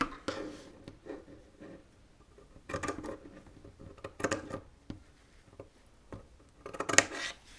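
Scissors cut through muslin fabric pieces in a few short, quiet snipping bursts separated by near silence, with no talking.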